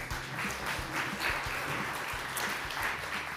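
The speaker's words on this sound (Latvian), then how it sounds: "Paldies ar aplausiem!" An audience at a Latvian workplace safety conference claps for an incoming speaker, with a continuous, moderately loud patter of hands and no talking over it.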